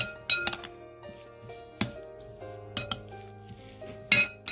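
Raw chickpea chaat ingredients with olive oil and chaat masala are stirred together in a bowl, giving a series of sharp spoon clinks against the dish separated by quiet pauses.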